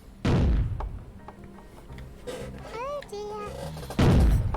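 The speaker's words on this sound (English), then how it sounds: "because it's double damage, you get some nice meaty explosions, which one-shot them both in one go" Airstrike missiles in Worms Armageddon burst in heavy, meaty double-damage explosions, one loud thud at the start and another near the end, with cartoonish game sounds and chatter in between.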